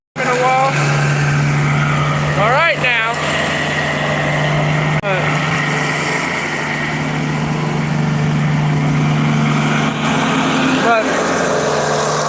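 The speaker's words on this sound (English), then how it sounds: "I figure I'll do a live stream doing some mowing on the Kubota" A Kubota tractor engine runs steadily while mowing, a loud, constant close drone with a low hum and a few brief pitch sweeps, as someone speaks briefly over it.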